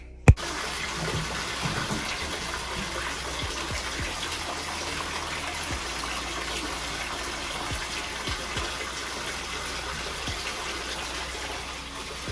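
Running water pours steadily over long dreadlocks being wetted before washing, a continuous close gushing stream that fills the whole stretch without talk.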